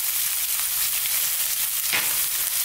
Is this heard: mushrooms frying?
yes